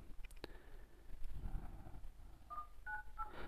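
Dialer keypad tones on an Android 12 custom ROM phone: a few short electronic beeps near the end, quiet and close, over faint background noise.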